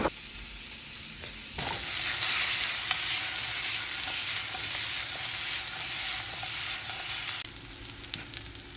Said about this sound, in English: As you can hear already, I still have a decent amount of heat in the pan.